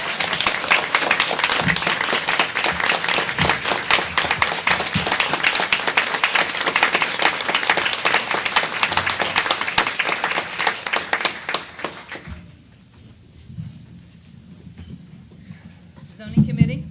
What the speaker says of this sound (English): I would just like one more round of applause for all of our emergency services personnel.